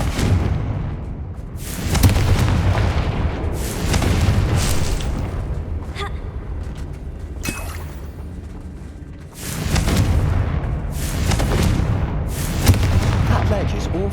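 Confringo fire spells explode repeatedly in Hogwarts Legacy, several deep, loud booming blasts arriving in waves with rumbling tails, close and heavy, mixed with game voices.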